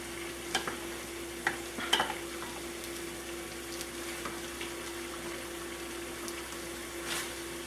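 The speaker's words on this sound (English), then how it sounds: "I just wanted to get this mushroom deglazed" Mushrooms sizzle in a pan as they are deglazed and stirred, a soft steady fizz broken by occasional scrapes and clinks of the utensil, with a faint constant hum underneath.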